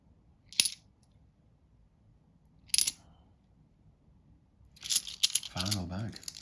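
Coins clink and drop during a hunt through a bag of British coins, with sharp metallic chinks at intervals. They end in a jangling cluster of coins spilling and shuffling, close and fairly quiet, while a person speaks briefly.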